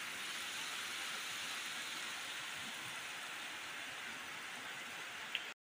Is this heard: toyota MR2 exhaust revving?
no